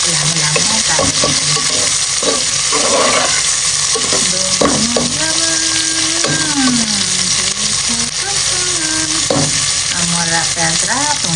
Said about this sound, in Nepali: प्याज रातो हुने गरेर भुट्छु